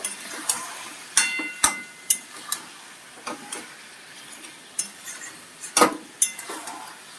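A spoon repeatedly taps and scrapes against a pot in an uneven rhythm of sharp metallic clicks while Bengali-style mutton curry masala with sugar is stirred and fried, close and distinct over a low background.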